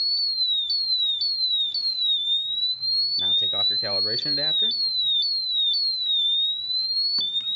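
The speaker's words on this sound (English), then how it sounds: "the vibrating alarm's going off, and I'm sure you can hear it. That's the audible alarm." A loud, shrill audible alarm from a BW Technologies Quattro gas detector during a bump test warbles continuously in a rising, repeating chirp pattern, with someone speaking briefly over it midway.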